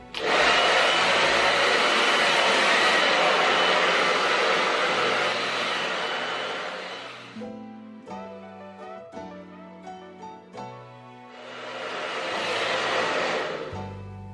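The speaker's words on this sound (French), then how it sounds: "Je vais venir maintenant les sécher au sèche-cheveux" A hair dryer blows loudly and steadily while drying curly hair, stops while brief clattering and handling sounds follow, then roars again near the end.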